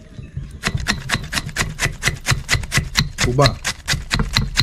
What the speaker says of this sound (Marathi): आता आपण चायनीज भेळसाठी कोबी कापून घेऊया